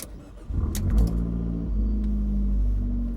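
A turbocharged 2013 Fiat 500 Abarth's engine and exhaust rev up sharply, then settle into a loud, steady, throaty drone, heard up close.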